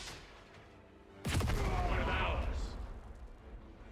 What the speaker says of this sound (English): Heavy firing.